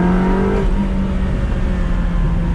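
A 2000 Ferrari 360 Modena mid-engine sports car accelerates hard on throttle, its engine droning loudly and steadily from inside the cabin with a rising tone that shifts once early on.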